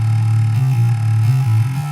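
A mono synth bass plays a short, steady low line like a bass guitar, with notes stepping between a couple of pitches, somewhat distorted, alone and loud.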